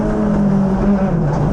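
Onboard a Hyundai i20 open-class rallycross car: a loud, continuous engine drone holding a steady pitch that dips slightly near the end, recorded close inside the car with no voices.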